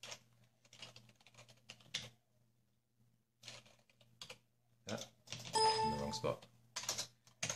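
Computer keyboard keys tapped in short bursts while entering panel measurements, close and crisp clicking that comes and goes with pauses, partly overlapping a quiet voice.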